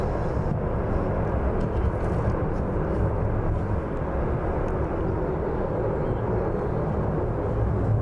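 Aircraft departing runway 09 at East Midlands Airport on an evening flight: a loud, continuous low roar of jet engines, steady throughout and heard from the distance of the airfield, with no talk.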